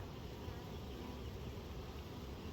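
Honeybees buzz around an opened hive as a worker bee flies nearby, making a faint, continuous droning hum with no talking.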